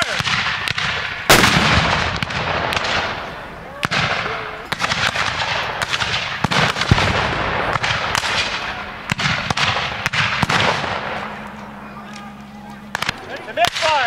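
Civil War reenactment with rifles firing volleys and scattered individual shots, sharp loud cracks with echoing tails in an uneven rapid sequence, a shouted command and crowd voices in between.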